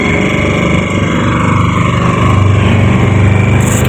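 The engine of a deep-sea prawn fishing boat runs steadily at sea, a loud, continuous mechanical drone with a constant rhythm that fills the whole stretch without any talk.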